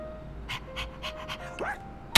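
A dog panting in the video game Persona 3 Reload, quick rhythmic breaths close up, followed by a short whine and a sharp sound at the end.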